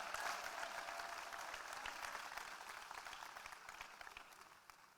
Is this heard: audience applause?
yes